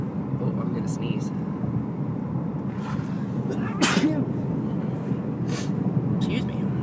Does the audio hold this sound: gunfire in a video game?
no